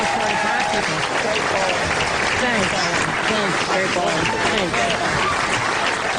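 Bowling fans at the 2009 USBC U.S. Women's Open final cheer and applaud loudly in a sustained roar of clapping and crowd noise that fills the whole stretch.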